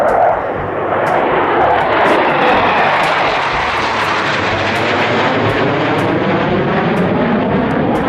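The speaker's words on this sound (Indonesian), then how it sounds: "Di sini ada pesawat tempur atau jet tempur teman-teman." A fighter jet's engine gives a loud, continuous, broadband roar that holds steady for the whole stretch, with no voices over it.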